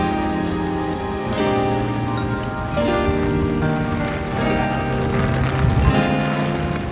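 Heavy pouring rain on a street in Japan, a steady dense hiss and patter that stays loud and unbroken throughout, with no talking.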